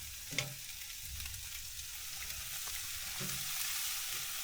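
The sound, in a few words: ribs frying and sizzling in a hot pan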